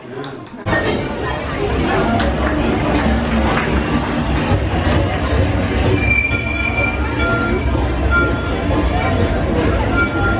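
Loud, continuous rumble and rattle of Mickey & Minnie's Runaway Railway theme park ride heard from inside, with metallic squeals and clanks throughout.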